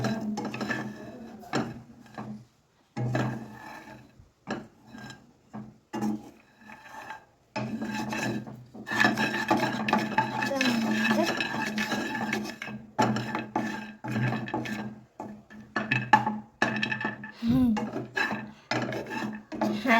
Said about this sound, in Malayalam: ഇത് നമുക്ക് നന്നായിട്ട് ഇളക്കി കൊടുക്കാം.